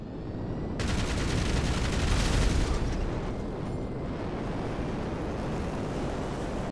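Laser explosive cannons fire in GTA Online, a dense rapid burst of blasts kicking in after a moment of quiet and merging into a loud, roaring wall of explosions that holds steady before cutting off abruptly.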